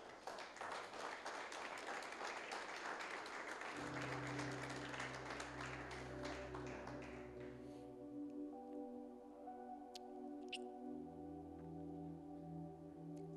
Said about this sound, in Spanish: Denle un aplauso a Cristo, por favor.